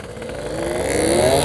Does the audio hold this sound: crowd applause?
no